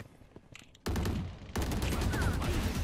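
Gunshots in the video game Valorant begin after a quiet moment as a sudden, loud, sustained burst of rapid fire that stays dense and close right to the end.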